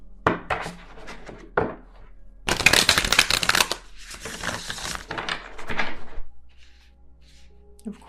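A deck of tarot cards is shuffled by hand at close range: several short riffles and taps, then a longer burst of dense rustling shuffles, fading into quiet handling.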